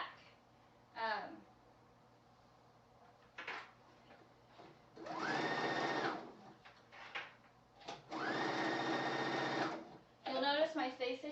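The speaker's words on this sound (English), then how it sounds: "we're going to use a straight stitch on a sewing machine and take a 3/8 seam allowance" A sewing machine runs a straight stitch across the back of a dress, in two sustained bursts of steady whirring, each a few seconds long, separated by handling clicks and knocks, close up with a person talking in between.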